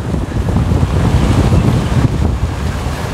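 Strong, hot wind blows at a lakeside, a constant loud rumbling roar buffeting the microphone for several seconds with no voices.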